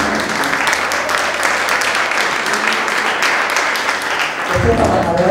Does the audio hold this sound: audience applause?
yes